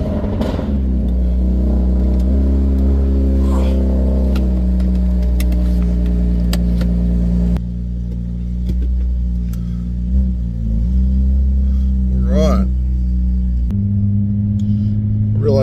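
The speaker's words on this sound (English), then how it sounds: "jumping into the F80, do a bit of a cold start. It's really loud." An F80 car engine fires up from a cold start and idles loudly with a deep, steady rumble and brief revs. It settles to a lower drone partway through and runs alone throughout, with no talk.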